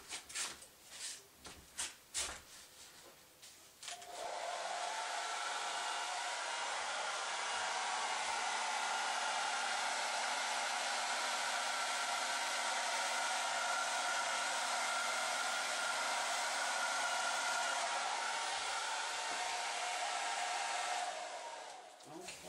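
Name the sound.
hair dryer blowing on acrylic paint pour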